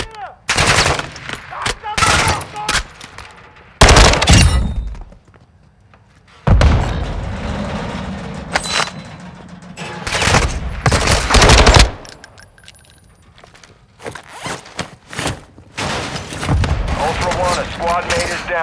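Rapid bursts of automatic gunfire in the video game Call of Duty Modern Warfare 2, loud and close, broken by short quiet gaps, with radio-style voices talking between the volleys.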